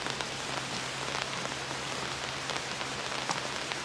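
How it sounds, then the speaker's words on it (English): Rain patters densely and evenly on an umbrella overhead in a cemetery on a rainy day, a constant close hiss with scattered sharper drops over a low background hum. "It's a rainy day"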